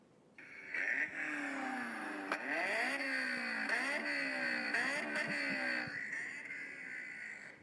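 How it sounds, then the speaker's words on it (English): A Honda S2000 roadster's small four-cylinder engine revs repeatedly, its pitch climbing and dropping in several quick sweeps, a fairly faint, high wailing note that sounds heard from a distance. "Now that's coming from a small 4-cylinder Honda engine."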